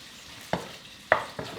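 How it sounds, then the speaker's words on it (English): Chicken pieces stir-fried in a very hot pan, with a steady sizzle under a few sharp scraping stirs at regular intervals, close up and with no talk. "we should hear this sizzling sound once you put it in"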